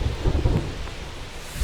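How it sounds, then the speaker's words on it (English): A thunderstorm with rain at a ballpark in the baseball video game MLB The Show 25, a low rumble of thunder over steady rain with no commentary heard. "It feels like we might be headed towards a rain delay if the weather doesn't ease up, Chris"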